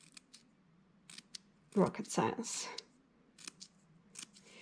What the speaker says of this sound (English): If you make a cut that is too thick, you can go back and cut another one in between.